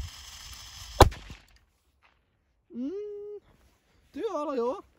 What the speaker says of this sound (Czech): Možná teď Doom Boom Big F2 Silver, jak překvapí, jak víte z testu, tak je to slabší, ale stejně moje hodně oblíbená petarda.